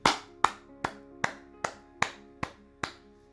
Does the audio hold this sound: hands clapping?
yes